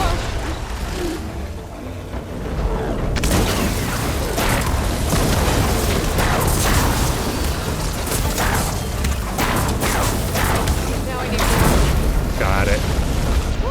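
Rockbreaker machine tearing through the ground in Horizon Forbidden West, a continuous loud rumbling roar with repeated booming bursts of churning earth, lasting throughout.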